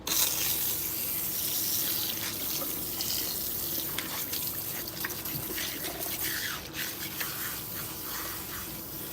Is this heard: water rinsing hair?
yes